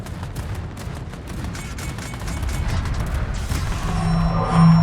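Warship guns in World of Warships fire a rolling barrage of booms and blasts over a continuous rumbling background, growing louder toward the end.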